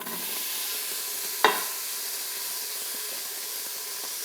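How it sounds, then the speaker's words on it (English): Diced onion and garlic hit warm avocado oil in an Instant Pot, giving a sharp burst as they drop in, then a steady, even sizzle and hiss that continues alone. "I'm gonna add in some diced onion and a little bit of garlic."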